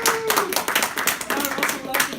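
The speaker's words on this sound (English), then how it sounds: "Everybody clap!" Short burst of clapping from a small meetup crowd at a Utah Rust and Provo Linux gathering, uneven and close, with talk over it.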